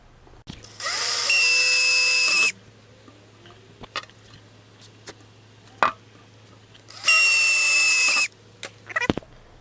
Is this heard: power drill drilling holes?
yes